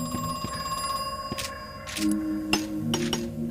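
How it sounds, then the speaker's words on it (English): A telephone rings in Crow Country, a horror game, with repeated bright metallic bell bursts sounding at a moderate distance over a low ambient hum, with no talking. "Get another ringing phone somewhere."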